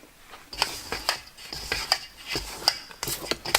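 Whole wheat banana bread batter being mixed in a bowl, a series of close, irregular spoon scrapes and clinks against the side, moderately loud with no voices.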